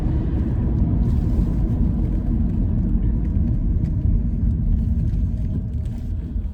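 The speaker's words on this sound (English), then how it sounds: "There's a car's just gone past in the roundabout." A car passes at a roundabout, heard as a steady low rumble of road and engine noise that fades slightly toward the end, with no talking.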